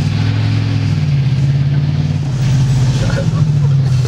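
Inside a 1989 Chevrolet Caprice cruising through town, the engine gives a steady low drone as it pulls under throttle, loud and continuous, with voices talking over it.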